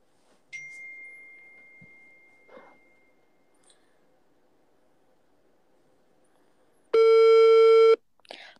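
A phone call tone sounds: a faint thin electronic tone runs for a few seconds early on, then a loud buzzing busy-signal burst lasts about a second near the end, with quiet background otherwise.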